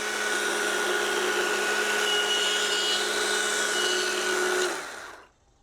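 A chainsaw runs steadily at high revs while cutting off part of the hand of a wooden Sasquatch carving, loud and close, then the engine drops away and cuts out near the end.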